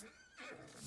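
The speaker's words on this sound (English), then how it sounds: "Yeah, Mufasa's such a good horse." A horse in Farming Simulator 25 gives a short, quiet neigh with a rising, shaky whinny, heard alone with no talk over it.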